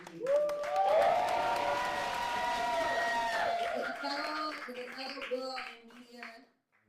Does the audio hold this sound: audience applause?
yes